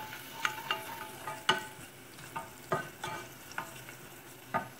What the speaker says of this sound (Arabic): هنا الثوم هاو يتقلى لي